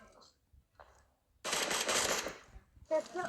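Rapid bursts of video game gunfire, including sniper fire from behind, crackle loudly for about two seconds mid-clip, with quieter game sounds and a brief voice before and after.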